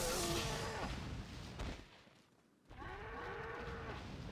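Cattle moo loudly in Resident Evil 4 Wii Edition, one long low bellow followed by a gap of near silence and then a second drawn-out moo, with gunfire-like bursts mixed in.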